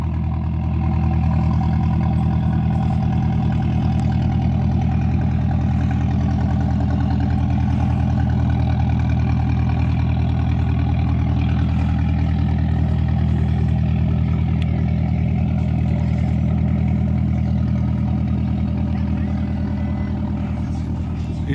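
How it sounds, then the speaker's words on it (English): A work boat engine runs steadily near a ferry crossing at Thu Đức, Ho Chi Minh City, Vietnam, giving a loud continuous low rumble with no break. "You hear that sound, that engine, the motor it makes?"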